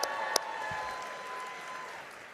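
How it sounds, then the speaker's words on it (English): Audience at a gala charity auction applauding after a winning bid, a dense, even patter of many hands heard from a distance, with a couple of sharp knocks near the start and a slow fade toward the end. "Can we give Scott and Ann one more round of applause"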